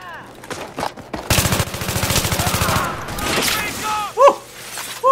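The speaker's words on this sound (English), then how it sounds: "so much shooting" Rapid automatic gunfire in the video game Battlefield 3, a loud sustained burst of rhythmic shots followed by scattered shots and impacts, with a voice speaking briefly around it.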